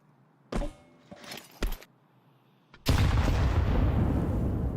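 Dual pistols fire in Counter-Strike, a few sharp separate shots followed by a sustained burst of loud gunfire.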